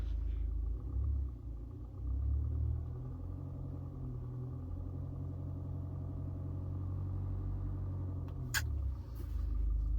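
A Mahindra Thar Roxx idles in neutral, its low, steady engine rumble and interior vibration droning throughout from inside the cabin, with a brief small click near the end.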